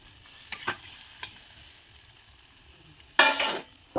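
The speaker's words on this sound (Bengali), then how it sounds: "এখন আমি ভালো করে কষিয়ে নেব" Fish, potato and eggplant are sautéed in a pan, with a low background sizzle, a few light clinks of stirring and a sudden loud hissing burst near the end.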